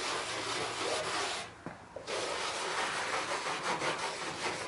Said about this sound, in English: I take the husk, rub that in, and go back with the rag.